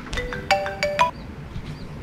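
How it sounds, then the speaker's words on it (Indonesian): A phone ringtone plays for an incoming call, a short bright melodic sequence of tonal notes up close that stops after about a second, with background noise and no speech. "Siapa lagi nelpon nih?"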